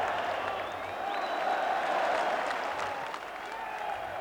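A large football crowd reacting to a goal in a Brighton match against Bristol Rovers, sustained cheering and clapping from a distance with a commentator talking over it.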